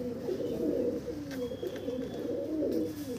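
A Punjabi pigeon pair, one male and one female, coos in repeated low, wavering throaty phrases at moderate volume close by, with a few faint clicks between calls.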